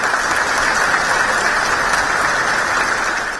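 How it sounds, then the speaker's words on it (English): An audience applauds the President in a dense, steady wash of clapping that holds for several seconds before starting to fade at the end. "A big round of applause, President."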